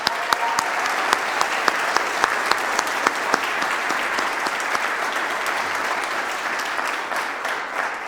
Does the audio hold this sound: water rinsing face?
no